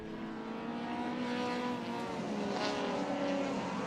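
Holden Commodore race cars at One Raceway drone past at racing speed, several engines overlapping in a continuous whining roar with shifting pitch, moderately distant and without speech.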